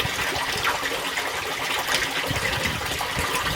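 Koi being lowered into pond water, a continuous close splashing and gushing of water that holds steady throughout, with brief sloshes rising out of the wash.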